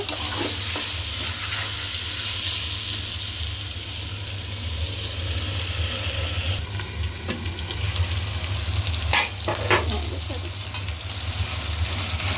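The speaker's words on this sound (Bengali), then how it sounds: "মাংসটা একটু গোল্ডেন কালার চলে আসছে, এখন একটু নাড়াচাড়া করে দুধটা দিয়ে দেব।" Meat fries in a pan with oil and is stirred now and then, producing a steady close sizzle with scraping stirring sounds rising over it at intervals.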